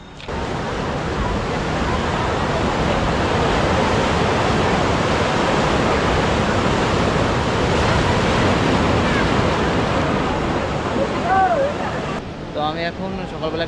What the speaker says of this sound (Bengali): এই দেখুন বিচের ঢেউগুলো হতো তো এখানে একদম কাছে চলে এসছে